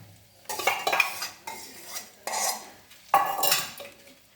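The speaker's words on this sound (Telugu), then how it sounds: "ఈ కమ్మట పెరుగు మీగడ పెరుగండి కలిపేసుకుందాం" Wet squelching and scraping as a spoon mixes thick curd into cooked rice in a bowl, in several short bursts with brief pauses, close by, no talking.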